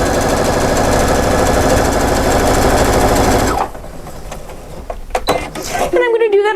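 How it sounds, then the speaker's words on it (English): A sewing machine runs a straight stitch along the edge of machine embroidery, a loud, steady mechanical whir for about three and a half seconds that then stops, leaving quieter handling clicks and a brief voice near the end. "now I'm just going to sew a straight stitch"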